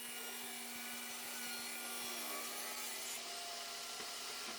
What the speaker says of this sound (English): At the table saw, I cleaned up one edge